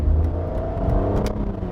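A 2008 Aston Martin DB9 Coupe's V12 engine revs hard under acceleration, a loud, steady, rich drone heard from close by without talk.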